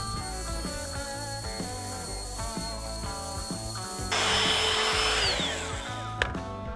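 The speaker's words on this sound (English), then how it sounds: "Here I'm using my router and a 1/8 inch bit to make a channel for the wires to fit in." A wood router fitted with a 1/8 inch bit cuts a wire channel in solid wood, a loud, steady, close whine that starts about midway and runs for a couple of seconds over background music.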